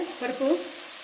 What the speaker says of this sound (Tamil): இது எண்ணெயிலே வதக்கலாம்.